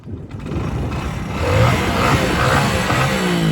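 A Hero Splendor motorcycle engine with its stock silencer idles and revs steadily nearby, a continuous mid-pitched rumble that swells slightly partway through, with no talking.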